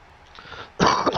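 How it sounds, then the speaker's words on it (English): A person lets out a sudden, close, harsh cough, a brief throaty burst after a quiet moment, during wrestling event commentary. "Sorry, everyone, for coughing."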